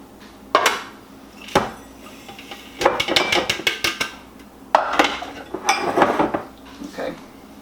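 A spoon beats pecans, sugar and egg whites in a bowl for gluten-free cookies, giving sharp clinks and scrapes against the bowl in bursts of quick strokes, close and loud, with brief pauses between rounds and no talk.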